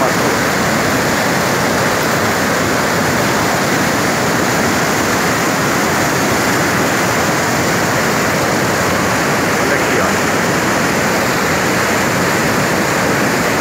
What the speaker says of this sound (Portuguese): Foi uma tromba d'água violenta.